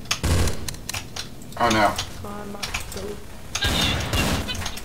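Gunfire rattles in a shooter video game, with bursts of rapid shots and sharp impacts spread across the moment while a player's voice speaks briefly over the action.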